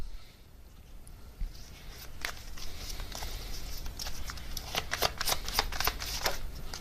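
A deck of tarot cards is shuffled by hand nearby, quiet at first, then a rapid burst of crisp riffling clicks that grows busier toward the end.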